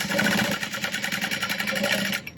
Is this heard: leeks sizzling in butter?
no